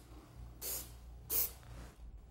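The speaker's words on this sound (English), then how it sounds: "I'll want to spray up to 8 corner blocks at a time, 4 for each panel" Spray adhesive hissing onto wooden corner blocks for raised panel wall assembly, two short close bursts of spray about half a second apart over a low background hum.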